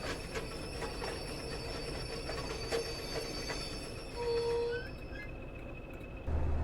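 A DTG Class 20 diesel locomotive hauling hoppers slows to a gentle stop in Train Sim 2021, wheels squealing faintly over a steady rumble, with a louder low thump near the end.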